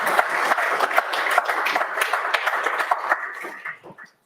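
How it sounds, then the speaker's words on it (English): An audience applauds steadily for about three and a half seconds, the clapping tapering off into a few scattered claps at the end. "Let's have another round of applause."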